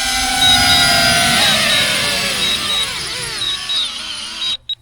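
A small DJI Neo 2 drone whirs with a high, steady propeller buzz as it lands itself nearby, its pitch wavering before the motors cut off abruptly at the end.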